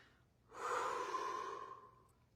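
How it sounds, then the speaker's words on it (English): A person draws one long, audible breath through the nose and mouth, a soft rushing inhale that swells and fades over about two seconds, close to the microphone with no words. "Take a breath, ladies and gentlemen."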